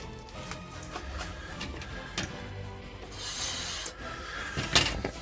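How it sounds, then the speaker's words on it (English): Plastic bag being peeled off a metal print plate, faint, close crinkling and rubbing in irregular bursts with a few brief louder rustles. "Let's unbox the artwork, unbag it without scratching it a bit."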